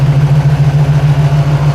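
A 1997 Jeep TJ with a swapped HEMI V8 idles steadily after firing up, a loud, smooth, even engine rumble with a faint regular pulse throughout, no voices.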